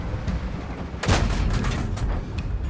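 A tank cannon fires in a World of Tanks-style video game, the E 25 on the Pearl River map, giving one sharp, loud blast that trails into a rumbling echo over steady engine noise.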